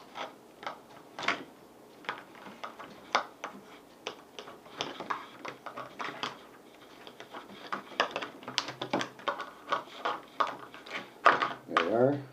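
Shears or scissors snipping a plastic egg carton on a slippery tabletop, a series of sharp irregular clicks and cuts up close, with a voice talking throughout.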